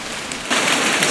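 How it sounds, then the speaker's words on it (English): Heavy rain downpour pouring over an overflowing gutter: a dense, loud hiss of rain that thickens abruptly halfway through, steady and close, with no voices. "It's just overflowing like crazy right there. That's how much rain we're getting."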